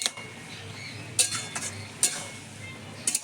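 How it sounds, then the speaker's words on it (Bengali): A utensil scrapes and clinks against a pan while ash gourd is stirred with mustard and poppy seeds, a few sharp metallic taps spaced out over a soft continuous sizzle. "সর্ষে, পোস্ত, দিয়ে একটু নেড়ে চেড়ে নেবো।"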